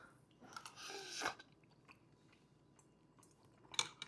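Close, crisp bites and wet chewing on a hot cheesy rice cake, with a loud crunchy bite near the start, softer mastication through the middle and another sharp bite near the end, no talking.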